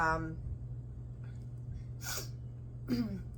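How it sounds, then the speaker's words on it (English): Two quick, close sniffs through a clogged nose come in the second half, sharp and short against a quiet indoor hum; a breath or voice fragment is heard at the very start. "pardon my sniffling and all that"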